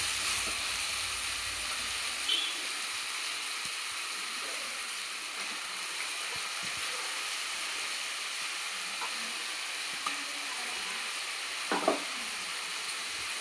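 Onion paste frying in oil for a fish curry, a soft, steady sizzle and bubbling hiss heard faintly and continuously, with a few light stirring knocks and no talking.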